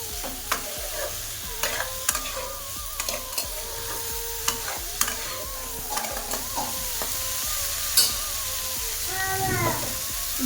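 A spoon scrapes and clicks against a pan as a prawn curry is stirred, the repeated close taps riding over a soft, continuous frying hiss.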